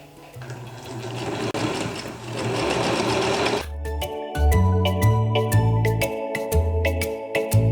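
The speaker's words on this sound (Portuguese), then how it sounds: "vou costurar em cima do risco toda a capa" A sewing machine stitches along a quiet book cover in fabric, starting with a rapid whirring run and then continuing in uneven bursts of loud mechanical clatter and needle ticks, close up and with no talking.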